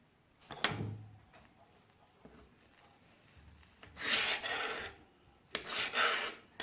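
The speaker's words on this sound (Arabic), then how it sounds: "غادي نقطع هاد الجوانب باش تجينا مقاده." A knife trims the sides of a homemade roll cake, giving soft scraping, rasping cuts in a couple of separate strokes, close and fairly quiet, with no talking.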